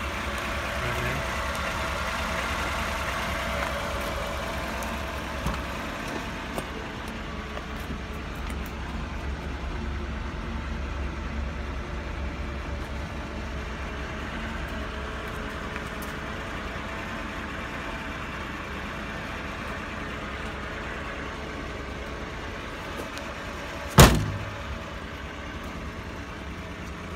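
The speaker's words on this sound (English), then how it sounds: "And you can hear her running right now." Mitsubishi Minicab Japanese mini-truck with a high cab, its small engine idling at a steady low hum close by, with one brief sharp knock near the end.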